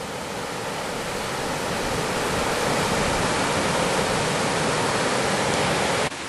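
River water pours steadily over a weir on a country walk near Hebden Bridge, a dense, loud, continuous rushing roar close by with no voices.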